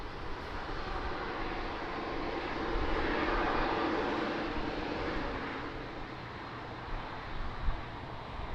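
A heavy airliner on final approach to runway 20 at Lisbon Airport in a crosswind, a steady broad jet roar that swells slightly midway and stays continuous and fairly distant throughout.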